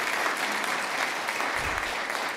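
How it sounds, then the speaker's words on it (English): Steady, dense applause from a community meeting audience gathered in a church hall, a continuous even patter of many hands at moderate volume. "give yourselves a round of applause for that"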